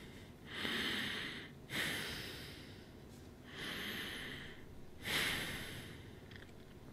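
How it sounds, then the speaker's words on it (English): Slow, deep breathing exercises done while wearing a sleep-monitoring mask, with long rushing inhales and exhales alternating at close range and a slightly muffled, wheezy texture. "Let's do some breathing exercises."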